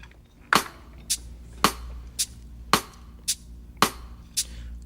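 Sharp snare drum hits alternate with softer strokes on a drum kit in a steady, even sixteenth-note pattern, about two per second, crisp and close with no voices.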